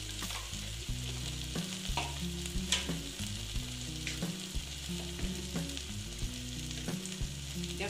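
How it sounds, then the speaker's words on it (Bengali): Spices (cumin, coriander and chili powder) frying and being stirred in a pan for Bengali jackfruit curry, with a steady close sizzle and repeated scraping stir strokes, no voices. "দিয়ে এটাকে আবার আমি ভালো মতো এই যে ভেজে নিচ্ছি"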